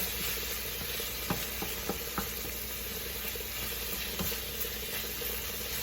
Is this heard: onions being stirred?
yes